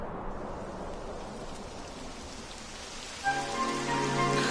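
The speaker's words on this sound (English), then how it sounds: "It would have to go and start raining, wouldn't it?" Steady rain in the video game Dragon Warrior 11 patters on surfaces all around, a soft continuous hiss, joined near the end by a brief thump and a sustained tonal hum.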